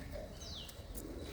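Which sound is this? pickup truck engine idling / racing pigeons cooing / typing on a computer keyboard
racing pigeons cooing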